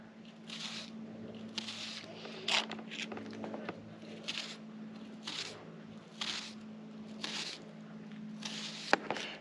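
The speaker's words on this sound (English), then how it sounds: "So we're cutting little squares on the top of the onion." A knife cuts an onion into small squares on a board, giving a series of soft, close, evenly spaced crunchy strokes over quiet room hum.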